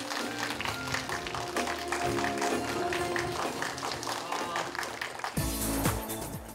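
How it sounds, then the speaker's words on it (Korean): Audience applause welcoming a guest speaker at a Korean youth education event, dense clapping sustained throughout with a swell near the end, mixed with background music. "김석봉 대표님을 큰 박수로 맞이해 주시기 바랍니다."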